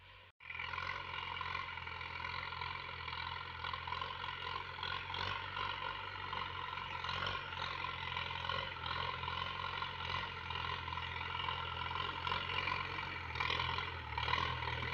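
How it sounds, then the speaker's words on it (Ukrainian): A small tractor engine runs steadily in a garden plot where barley was sown, a loud continuous rough drone that starts abruptly and holds without voices. "І трішки покажу, як працює наш трактор."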